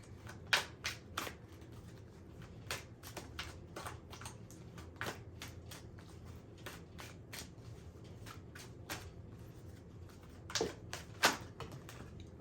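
Tarot cards are shuffled by hand in an irregular run of crisp riffling bursts and sharp slaps, close and quiet, with short pauses between them and no talk.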